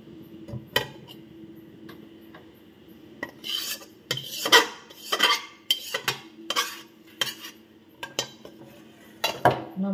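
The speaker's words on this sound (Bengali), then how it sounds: "কড়াই থেকে নিয়ে আমি এই বাটিতে নামিয়ে ফেলছি।" A spoon scrapes and clinks against a wok while transferring sandesh mixture into a bowl, with irregular close scraping strokes and sharp metallic taps separated by brief quiet gaps.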